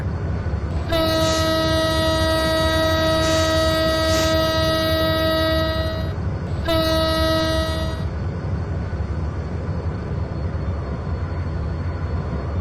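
A locomotive of the Kapotaksha Express, No. 6602, sounds its horn twice: a long sustained blast of about five seconds, then a short second toot, loud and near over a constant engine drone, with no talking.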